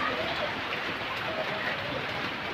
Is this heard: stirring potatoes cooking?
no